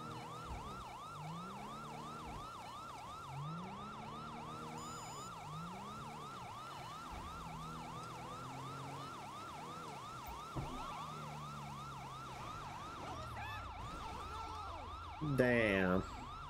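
Police siren wailing in GTA V with the LSPDFR mod during a pursuit, a loud continuous sweeping wail, with a brief higher siren tone near the end and faint talk underneath.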